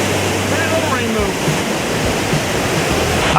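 A waterfall on Dix Creek in Georgia roars with a steady, loud, broadband rush that fills the whole stretch without a break. A faint voice may be buried beneath it.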